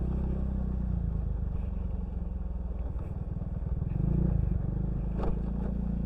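Wind rushing through an open car window while driving on a rough road, a loud steady low roar with engine rumble underneath, continuous and close, with no talk.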